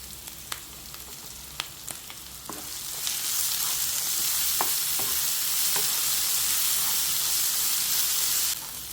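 Crushed shallots and chillies drop into hot oil in a pan for a Chinese potato stir-fry. A few light clicks come first, then a loud, even sizzle swells up and holds steadily until near the end, with no voices.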